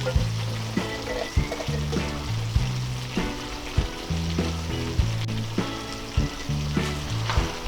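Pineapple chunks go into a pan of frying pork giniling, with a steady sizzle carrying through and soft stirring scrapes over it, close and fairly loud. No one speaks.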